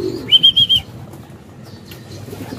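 A short burst of wing flapping with a bird's whistle-like call, then quieter background noise.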